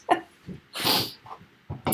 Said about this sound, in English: Was that horse sneezing?